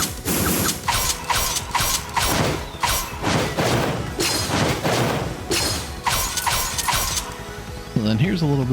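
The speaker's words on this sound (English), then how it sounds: "We'll go ahead and give you a little bit of a sound effect test for it here" Rapid bursts of metallic sword swings and clanks with ratcheting, mechanical clicks from the game PSO2 NGS, loud and close, ending with a brief voice.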